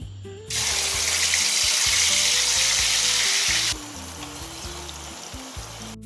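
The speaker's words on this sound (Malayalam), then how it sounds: "എണ്ണ ചൂടായി വന്നിട്ടുണ്ട്, ഇനി അതിലേക്ക് നമുക്ക് കൂണിടാം" Termite mushrooms dropped into hot coconut oil hiss into a loud, bright sizzle that holds steady for a few seconds, then drops to a quieter bubbling fry with occasional soft clatter of stirring.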